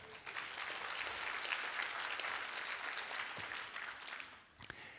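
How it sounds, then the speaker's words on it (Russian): An audience at a motivational talk on goal-setting bursts into sustained clapping, an even, moderately loud wash that holds steady and thins slightly toward the end, with a couple of sharper knocks near the close. "Аплодисменты, да?"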